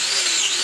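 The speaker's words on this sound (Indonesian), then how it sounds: "menggunakan kawat gerinda seperti ini" Angle grinder fitted with a wire brush wheel polishing an engine block, giving a steady, loud, high-pitched whirring buzz of bristles scraping metal that runs unbroken for the whole brief moment.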